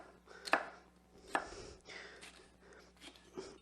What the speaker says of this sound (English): I'm just going to slice these up